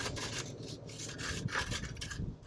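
A metal rail left over from a solar installation scrapes along patio sand as it is leveled, giving a steady close rasping rub in repeated strokes, with no talking.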